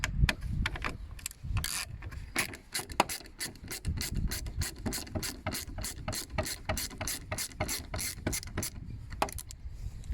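Rapid ratcheting clicks from a Torx T20 driver loosening the rear light bolts on a Renault Megane Mk3, close and steady with short pauses between bursts of turning.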